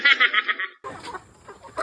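Pet backyard chickens at a rural home cluck and chatter in a burst of close calls while being fed, followed by quieter scratching and faint clucks, with no talk.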